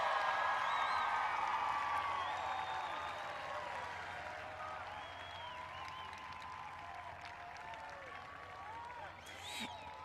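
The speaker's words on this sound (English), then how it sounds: "can we get a round of applause for our class of 2021 graduates?" A large crowd at a high school commencement applauds the graduates steadily, with scattered whistles and cheers rising above the clapping, which gradually softens toward the end.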